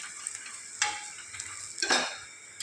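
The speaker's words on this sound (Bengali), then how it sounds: "এবার গ্যাসটা কম করে এভাবে সুন্দর করে একদম ভেজে নাও" An onion paratha fries in oil on a pan, a soft steady sizzle broken by two brief scraping stirs, close and fairly quiet with no one speaking.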